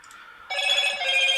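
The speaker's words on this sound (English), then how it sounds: "Will you shut up, phone?" A telephone rings with a bright, warbling electronic trill that starts suddenly and keeps going steadily and fairly loud, with no talking over it.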